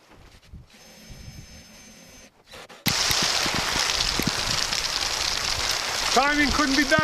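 Heavy rain pours down in a sudden downpour at an off-grid cabin in southeast Arizona, a loud, dense hiss that starts abruptly after a quieter stretch of hammering and talk, with a short burst of speech near the end.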